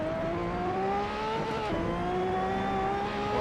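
A race car engine in the iRacing sim holds a steady high revving drone with rising and falling pitch, loud and continuous throughout, with no talking.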